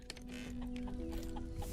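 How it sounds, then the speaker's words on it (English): Chicken clucking in the survival video game Solarpunk, a steady run of short, near clucks repeating over a low, continuous in-game ambient hum. "The chicken's coming in my house."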